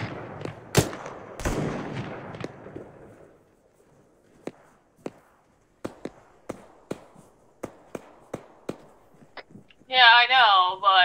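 Gunfire in the Arma 3 game: a few heavy, loud shots near the start, then a string of sharp, distant single shots spaced out over several seconds, with speech in the background.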